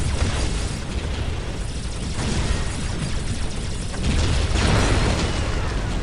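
A looted Ork tank fires amid a Dawn of War: Dark Crusade battle, with dense rumbling blasts and booming explosions layered continuously, loud and close, with no talking.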